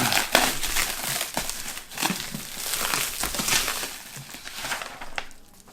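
A package holding a Panasonic Lumix G9 camera is opened with continuous close crinkling and crumpling of wrapping, broken by sharper tearing bursts, heard alone.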